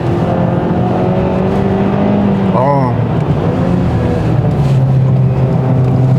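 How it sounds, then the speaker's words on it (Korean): Cabin sound of a 2021 Hyundai Sonata N Line driven on a winding road: a loud, steady engine drone with tonal harmonics throughout, and a voice briefly audible over it. "여기서 코너에서 조금만 가속을 하면은 차가 토크 스티어가 바로 납니다"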